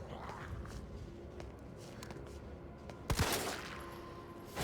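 Gunfire aimed at zombies in Resident Evil 3, with a loud burst of shots near the end over a busy game backdrop of footsteps and ambience.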